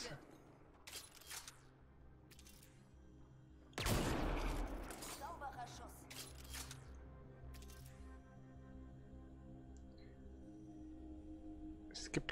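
Mass Effect Andromeda gameplay: one sharp, loud weapon shot cracks out over quiet ambient game music, followed by fainter crackling debris and scattered distant pops, with someone talking now and then.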